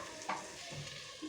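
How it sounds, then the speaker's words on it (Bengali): Chicken shashlik skewers fry on low to medium heat in a pan on a home stove, giving a steady soft sizzle with a few light scraping clicks, close and fairly quiet, with no talking. "এভাবে আমি এপিট ওপিট করে সবগুলো শাশলিক ভেজে নেব লো টু মিডিয়াম হিটে"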